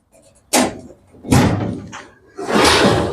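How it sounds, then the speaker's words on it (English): A radial arm saw cabinet door is unlocked with a key and opened, giving three separate knocks and thumps of hardware and panel, each close and fairly loud with short pauses between. "Here's the key here to open the door."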